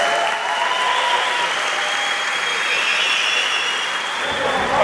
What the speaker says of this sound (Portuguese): Uma salva de palmas a vocês.